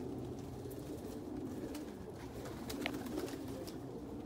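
Soft, low pigeon coos repeat steadily, several birds murmuring together inside a pigeon loft, with a few brief rustles and flutters.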